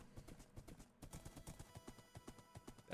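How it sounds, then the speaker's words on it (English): Horse hooves clip-clop in the video game Minecraft, a quick steady run of hollow clops repeating throughout, close and clear with no talk over them. "Horse."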